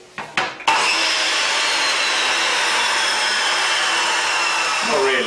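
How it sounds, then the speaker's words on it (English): A chop saw starts up with a few short bursts, then cuts steadily with a loud, sustained whirring grind that holds for several seconds before easing slightly at the end. "and a chop saw"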